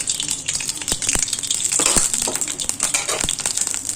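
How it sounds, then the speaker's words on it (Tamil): Oil poured into a hot kadai on the stove while making a curry leaf and pepper gravy, a sizzling, crackling hiss with scattered sharp pops and a steady frying wash close to the pan. "அந்த எண்ணெயை ஊற்றிப்போம்."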